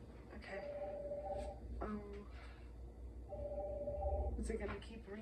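A telephone rings at intervals, with two bursts of a steady, tonal electronic ring sounding faint, beneath a low background hum and some soft handling noise.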